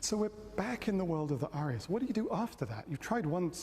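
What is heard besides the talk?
None of the usual background noises is heard.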